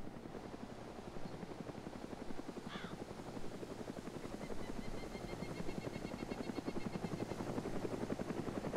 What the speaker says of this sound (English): apparently this chopper won't go away